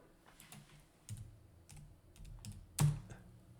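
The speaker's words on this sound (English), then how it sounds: "I keep typing in the wrong symbol" Quiet, close typing on a computer keyboard, scattered clusters of light key clicks with brief pauses and one louder clack near the end, no talk.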